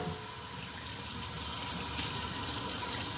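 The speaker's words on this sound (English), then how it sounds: "I can rinse this." Running tap water pours steadily over a part from a Yeedi Vac 2 Pro robot vacuum being rinsed in a sink, a continuous close hiss and splash with no talk.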